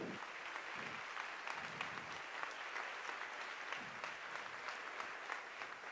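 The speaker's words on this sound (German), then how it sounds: "ja genau, Applaus." Faint, distant audience applause at a carnival society event, with a steady wash of many hands clapping that continues evenly for several seconds.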